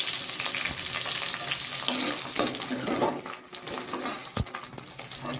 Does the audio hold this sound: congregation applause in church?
no